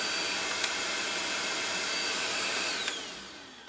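A WOWGO cordless stick vacuum cleaner runs continuously with a steady, even whine and airy hiss, close and moderately quiet, with no talk.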